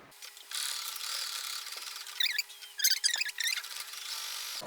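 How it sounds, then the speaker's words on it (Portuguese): A sewing machine stitches fabric with a steady, faint mechanical whir, and short bursts of quicker rattling stitches come toward the end. "Coloco só um grampinho para segurar e vou passar a costura."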